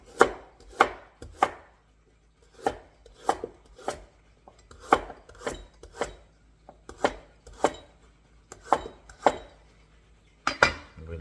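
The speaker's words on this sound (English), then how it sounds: "We're gonna slice the carrot first" A knife slices carrots on a cutting board for a beef stir-fry, with about fifteen crisp, close chops landing in a steady rhythm with brief pauses.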